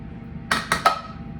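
Three quick metallic clinks of a sauté spoon against a pan while stirring canned mushroom stems and pieces into a beef and broccoli stir-fry, bright and close over a low background hum.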